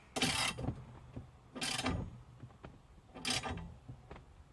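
A wrench ratchets in three short clicking bursts, tightening a nut on a racing harness bracket in a Nissan G35. The mechanism sounds close and fairly quiet, with pauses between strokes and no talk.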